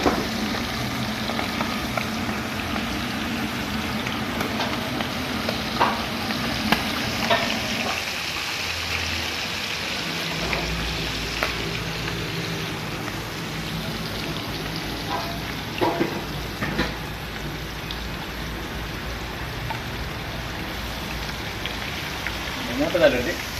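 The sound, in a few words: octopus deep frying in hot oil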